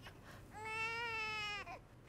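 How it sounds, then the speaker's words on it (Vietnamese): A newborn baby cries indoors in a single sustained wail of about a second, a high tonal cry that breaks off at the end, fairly faint and alone against quiet room noise. "Có tiếng khóc nào đó."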